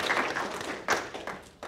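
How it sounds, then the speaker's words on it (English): Thin, scattered applause from a small audience at the close of an art history event, a few distinct claps and taps rising and falling rather than a full ovation, fairly soft. "Just one more round of applause for everyone."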